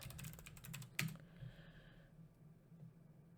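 A computer keyboard clatters with a quick burst of close, faint keystrokes as a search is typed into Pinterest, then the clicking stops and only a low hum remains.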